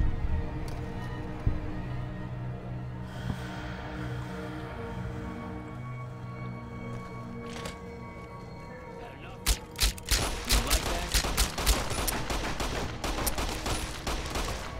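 Rapid pistol fire from a video game session of Fallout: New Vegas, a burst of sharp shots clustered near the end over a droning game ambience, with a player talking briefly.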